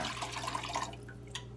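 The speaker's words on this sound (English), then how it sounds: "Now I'm going to add the 4 cups of water." Four cups of water pour into a pot of frying vegetables for ricotta ball soup, giving a steady splashing rush that fades, then a drip or two. No one speaks.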